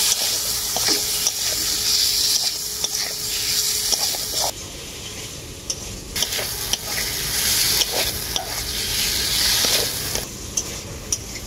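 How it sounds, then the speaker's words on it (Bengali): Spice paste with turmeric and a splash of water fries with potatoes in a pan, a loud sizzling hiss broken by repeated stirring scrapes and taps, close up, briefly dipping quieter midway. "এরপর আমি মশলাটাকে আলুর সাথে খুব ভালো করে কষিয়ে নেব।"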